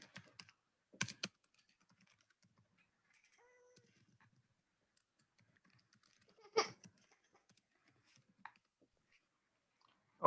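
Computer keyboard keys click in a few short, sparse bursts in a quiet room, with brief pauses between quick runs of typing.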